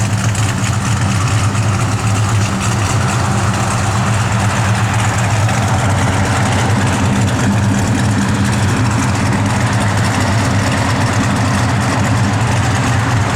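A 1971 Dodge Super Bee engine idles loudly nearby, a deep, steady, lumpy rumble that holds unchanged throughout with no voices.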